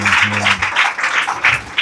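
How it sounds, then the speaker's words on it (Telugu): A church congregation claps in uneven bursts, loud and close, while a voice speaks briefly at the start. "గట్టిగా చప్పట్లు కొట్టి దేవుడు ఆనందం పరుస్తామండి"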